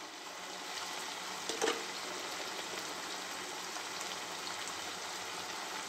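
Tomato pieces frying in a pan with salt and turmeric give off a soft, continuous sizzle, faint and steady, with one brief louder crackle near the start and no talking.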